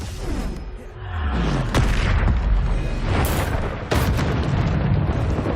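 Bombarda explosion spells in the game Hogwarts Legacy, a run of loud, deep booms and blasts with sharp cracking impacts, rumbling continuously over several seconds of combat.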